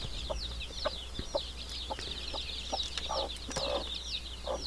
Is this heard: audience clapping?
no